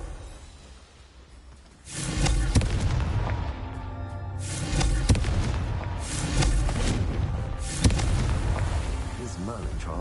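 Confringo blasting spell going off in Hogwarts Legacy: a sudden booming burst at about two seconds, then further loud blasts and rumbling impacts that keep going, with no talk over them.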